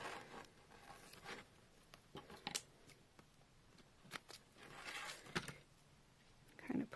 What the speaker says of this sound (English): Now, I'll just take my double thickness of foam tape.